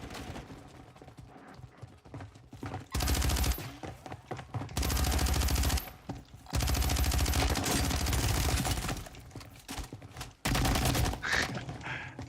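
Bursts of automatic gunfire from an AR build with a long barrel in a video game, loud, close rapid volleys separated by short gaps, with faint talk in the quieter moments.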